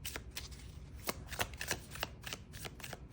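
Tarot cards being shuffled and drawn, a dense, continuous riffle of papery flicks and slaps with close, steady rhythm and no talking.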